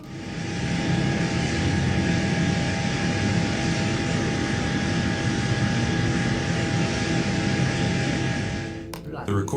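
Engines of a passenger plane drone inside the cabin, a steady, loud, broadband roar with faint tonal hums. It runs unchanged for almost the whole stretch and then cuts off abruptly near the end.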